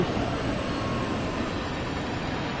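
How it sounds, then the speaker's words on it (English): A long manifest mixed freight train with box cars rolls past on Sherman Hill in Train Sim World 2, a loud, continuous broadband rumble and rattle that holds steady for the whole stretch. "This is a manifest mixed train,"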